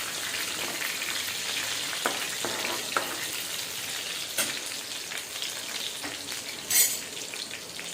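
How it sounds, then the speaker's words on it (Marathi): Garlic cloves frying in a pan for a taro leaf curry, a steady close sizzle with faint stirring scrapes and a few sharper pops, no talking. "लसणाच्या पाकळ्या 5 ते 6. लसूण इथं मी भरपूर वापरलेला आहे. परतून घ्या चांगले."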